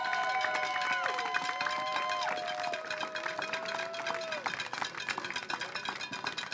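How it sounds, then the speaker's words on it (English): A crowd at the Western States endurance run finish line applauds runner Brittany Peterson, with scattered clapping and cheers under an announcer's voice and whistling tones. "big round of applause for Brittany Peterson from Pocatello"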